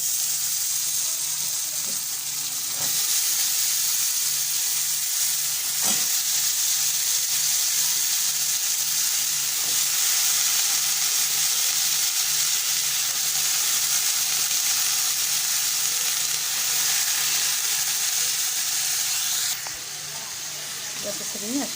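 Ghevda beans dropped into hot oil with onions in a home kitchen, a continuous loud hissing sizzle that holds steady for about twenty seconds with occasional stirring clinks, close by.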